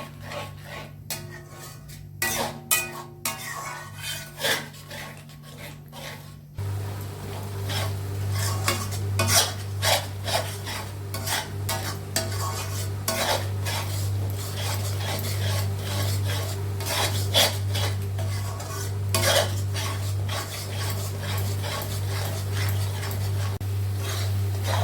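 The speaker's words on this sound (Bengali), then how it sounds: "এই মশলাটা আমার প্রায় ভাজা হয়ে গেছে, এটা তেলও ছাড়তে লেগেছে" A spoon stirs and scrapes spice masala frying in oil in a pot for mutton, with rhythmic rasping strokes and a soft sizzle underneath, close up and continuous with no talking.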